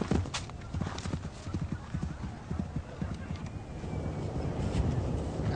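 Horses gallop on a steeplechase course at racing pace, with rapid drumming hoofbeats and wind buffeting the microphone. A voice talks faintly underneath.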